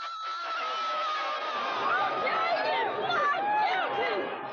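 A jubilant outdoor crowd in Los Angeles erupts in cheering, whoops and shouts at the O.J. Simpson verdict, a dense, sustained roar of many voices with excited cries rising above it throughout.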